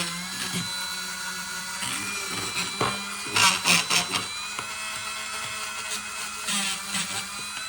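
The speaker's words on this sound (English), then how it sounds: "So I'm taking my Dremel with a little wire brush fitting on it." Dremel rotary tool with a small wire brush fitting cleans the inside of a carburetor from a 1984 Johnson 90 outboard, a steady whirring drone with scratchy bursts of brushing near the middle and end.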